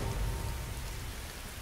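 Steady rain falls, a dense continuous hiss of drops with a low rumble underneath, fairly loud and even throughout.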